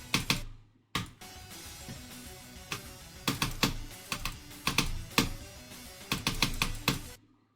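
Clicky keystrokes on an Apex Pro keyboard with rapid trigger, arriving in quick bursts and clusters broken by short pauses. Close and fairly loud, no voices.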